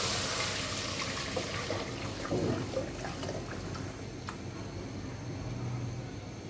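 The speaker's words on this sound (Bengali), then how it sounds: "এই যে পেয়ারার পানিটা আছে এটা আমি হাঁড়িতে দিয়ে দিচ্ছি।" Guava water poured from a container into a cooking pot, a steady, soft liquid rush with faint splashes lasting several seconds, no voices.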